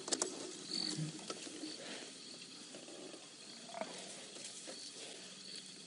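A pride of lionesses pulling down a Cape buffalo in the wild, a faint distant struggle of low growls and thuds under steady outdoor ambience, with no talking.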